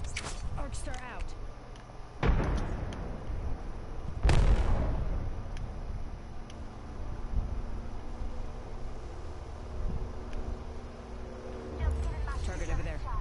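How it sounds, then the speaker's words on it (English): Frag and arc star grenades go off in Apex Legends, two loud broadband blasts a couple of seconds apart over steady game ambience, with a voice talking throughout. "Frag out. Arcstar out."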